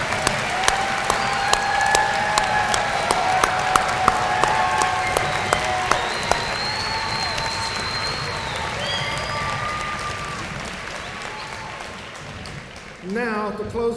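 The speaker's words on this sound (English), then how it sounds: "let's give our graduates and families one more round of applause" A large crowd at a university graduation ceremony applauds graduates and families with sustained, dense clapping and scattered cheers, easing toward the end as a voice briefly speaks over it.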